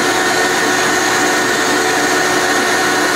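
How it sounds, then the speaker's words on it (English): Steady, loud machine whir of wood being sanded with a power sander, a continuous broadband hiss and hum while working on a homemade computer bench, with no talk. "just start sanding away at it here"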